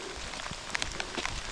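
Rain falls during a hike in the Balkan mountains, a steady soft patter with scattered close drops tapping on a rain jacket, fairly quiet and with no one talking.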